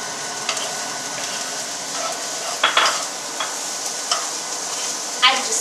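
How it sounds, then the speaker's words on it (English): Steady sizzling of onion and garlic sautéing in a pan, with occasional clinks and scrapes of stirring on top; no talking. "I just hear it sizzle."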